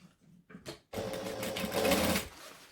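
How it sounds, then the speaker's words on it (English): A sewing machine runs a continuous stitch along a fabric edge for a bag, preceded by a few short bursts, steady and close with no talk. "So now I'm just going to stitch along that edge"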